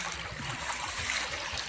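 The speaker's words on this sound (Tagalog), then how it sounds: "Malakas ang agos." A strong river current rushes and gurgles steadily close by, a continuous watery wash with no voices.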